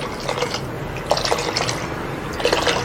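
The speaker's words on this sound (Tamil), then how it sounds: "இப்போ மீதி 4 கிளாஸ் அளவுக்கு ஹாட் வாட்டர் சேர்த்துக்கலாம்." Hot water poured into a pot of mutton biryani, a soft continuous splashing pour with a few brighter bursts, close and fairly quiet, with no talking.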